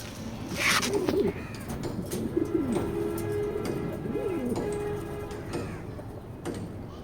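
Racing pigeons coo close by in soft, low, rolling calls, repeated several times with a faint ticking and a brief sharp noise early on.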